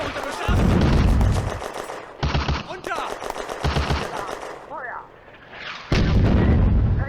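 Mortar, rifle, machine gun and tank fire in a World War II eastern-front battle game: loud, dense volleys of gunfire and booming blasts with rapid automatic bursts, one brief lull, then heavy firing resumes.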